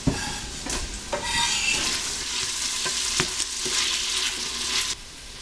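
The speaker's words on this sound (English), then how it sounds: "we have our onions and peppers slowly cooking down on the stovetop" Onions and peppers sizzle steadily in a pan on a stovetop for a tomato sauce, with continuous close frying hiss and occasional spoon scrapes and clinks against the pan, and no talking.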